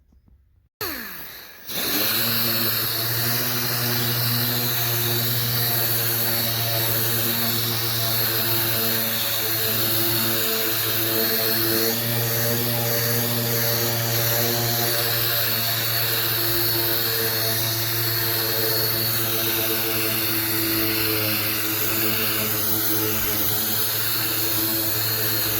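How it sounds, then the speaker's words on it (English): A faded Ford Focus headlight is sanded with 3000 grit on a power tool that starts up and then drones on loudly and steadily, with a strong buzzing hum and no voices. "I'm going to hit it with my 3000 grit. I'll probably go over it about 2 times."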